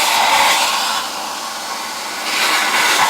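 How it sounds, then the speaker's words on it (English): A CNC plasma cutter slices through box section steel with a loud, steady roaring hiss that swells and eases slightly, heard close with no speech. "Turn the plasma on. So that's where it moved the 10mm to start the cut."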